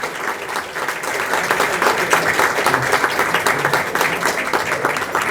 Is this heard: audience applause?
yes